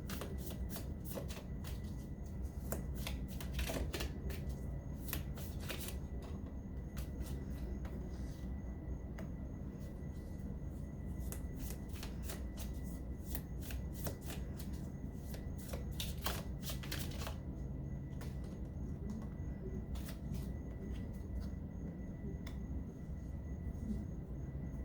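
Tarot cards are shuffled continuously, a close, steady riffling rustle with flurries of sharper card flicks throughout.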